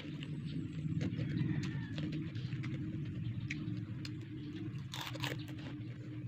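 Crunchy balut being chewed close up, with repeated crisp bites and munching over a steady low background hum.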